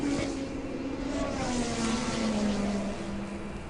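Lamborghini engine in PUBG revving continuously, a steady loud drone with a gliding engine pitch that rises and falls, close and unbroken with no talking over it.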